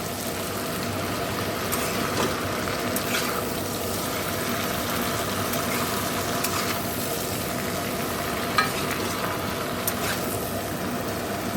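Water is poured into a pan of dal that has just been gently stirred in hot oil. A steady running-water wash continues throughout with a faint simmer beneath, close and moderately loud, with no talking.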